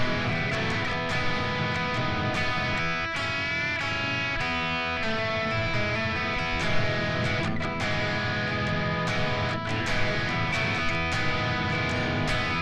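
Distorted electric guitar plays the main riff of a rock song, a continuous chord-driven pattern with sustained ringing notes and short rhythmic breaks, steady and moderately loud with no voices.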